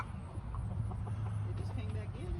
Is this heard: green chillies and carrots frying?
no